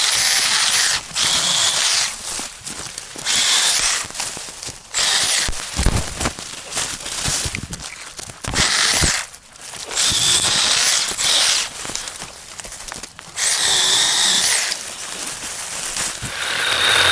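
A Milwaukee 12-volt hatchet saw cuts on a job site in repeated bursts, a loud buzzing rasp that starts and stops every second or two with short pauses between cuts.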